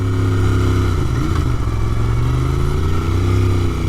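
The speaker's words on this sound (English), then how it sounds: "It's an incredibly good, smooth acting motor." A Royal Enfield Interceptor 650 Mk 2 motorcycle engine runs steadily up close, a smooth, continuous low rumble with faint mechanical clatter and no change in pace.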